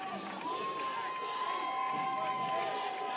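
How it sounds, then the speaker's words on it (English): A packed softball stadium crowd at a Texas versus Texas A&M game roars in a continuous, dense swell of cheering and shouting, with a sustained tonal whistle or horn running through it. "you can hear it. The crowd is excited here at McCombs"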